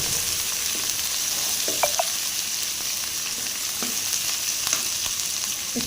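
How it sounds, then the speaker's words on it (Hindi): Coarsely chopped onions fry lightly in a pan, giving a steady, soft sizzling hiss throughout with a few faint clicks and stirring scrapes, no talking. "इसको हल्का सा फ्राई करेंगे।"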